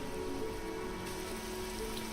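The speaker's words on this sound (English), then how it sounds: "It's supposed to be raining." Steady rain patters in the video game Evoland II, a dense, even hiss of drops on a surface with no voices over it.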